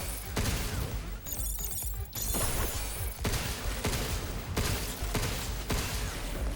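Shots from a pistol and a shotgun in the video game Pragmata, a dense run of loud gunfire and impact crashes with a few sharp blasts standing out, no voices.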